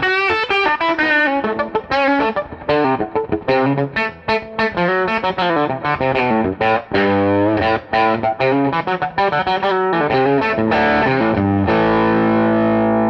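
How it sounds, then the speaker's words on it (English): Overdriven electric guitar plays a steady run of distorted chords and notes, loud and continuous with a gritty, saturated edge. "And then here's the overdrive sound."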